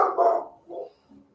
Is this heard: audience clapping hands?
no